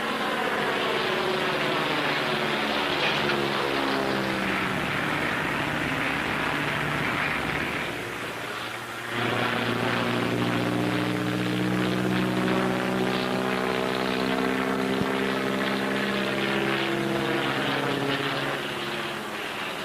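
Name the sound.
propeller airplane taking off with one wing low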